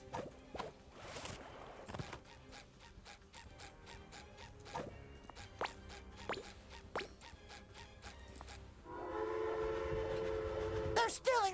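Game train in SpongeBob SquarePants: The Cosmic Shake, a series of sharp mechanical clanks and ratcheting clicks followed by a sustained rolling, humming rumble as it gets going, moderately loud with no speech.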